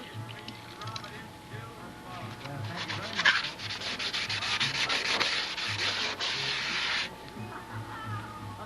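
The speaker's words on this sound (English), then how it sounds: "rub it quickly. Don't hold it in one spot. And even after you sand it, go along that edge." A wooden edge on a model boat being sanded by hand with quick back-and-forth strokes, a steady close scratchy rasp that rises mid-way and stops, with a faint hum underneath.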